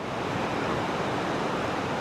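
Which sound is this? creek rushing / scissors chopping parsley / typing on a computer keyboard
creek rushing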